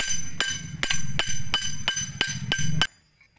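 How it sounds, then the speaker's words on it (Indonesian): Seven sharp metallic hammer blows at a steady rhythm drive a stuck piston pin out of a damaged engine's connecting rod, each strike ringing briefly and close, then stopping abruptly into near silence. "Kita pakai palu ini aja dulu ya teman-teman."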